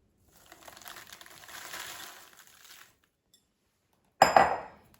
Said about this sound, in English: So let's add our popcorn to the chocolate.